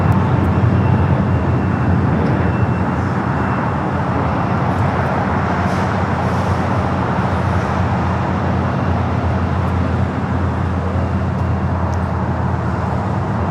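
An American Airlines heavy jet arriving at LAX from Tokyo Haneda makes a loud, sustained roar that stays fairly steady across the clip, with airport and traffic rumble underneath.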